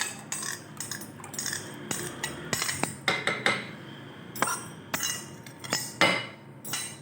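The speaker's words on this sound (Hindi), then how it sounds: "अब इसको हम फेंट लेंगे अच्छी तरह से" Curd being whisked in a bowl for kadhi, with quick irregular clinks and scraping taps of a utensil against the bowl, close and fairly crisp, no talking.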